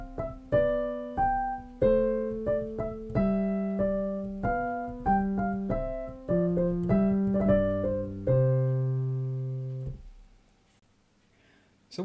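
A Handel gavotte opens with its first line, played as a steady run of clear, moderately paced instrumental notes in 4/4, each sharply attacked and evenly spaced, ending on a longer held tone before silence.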